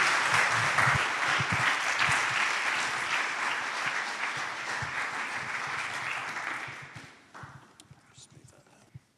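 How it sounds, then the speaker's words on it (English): A church congregation claps in a warm, dense round of applause that holds steady, then thins and fades out over the last few seconds. "let's give him a massive round of applause"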